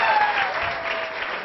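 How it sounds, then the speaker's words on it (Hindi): Classroom audience of students clapping at a strategic management lecture, a dense steady wash of applause filling the whole stretch at even loudness with no voices over it. "एक बार ताली हो जाओ भाई."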